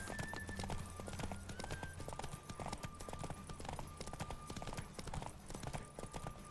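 A horse gallops in The Witcher 3, steady clip-clop hoofbeats in a quick rhythm throughout, with a faint whinny-like tone and game music underneath.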